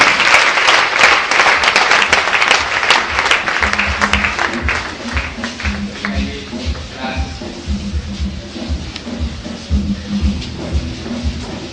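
A church congregation applauds loudly, dense clapping that gradually thins into rhythmic, in-time clapping as music joins in.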